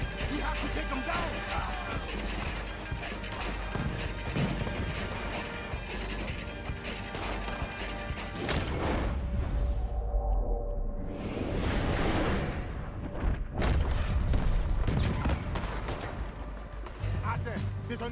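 Gunfire in the game Red Dead Redemption 2, repeated sharp shots and crashing impacts mixed with whooshes and mechanical clatter over a loud battle bed, with voices talking over parts of it.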